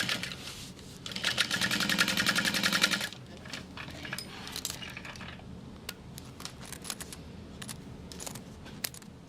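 A sewing machine stitches a zippered fabric sling in a loud, rapid buzzing burst lasting a couple of seconds, then gives way to quieter handling clicks and small taps.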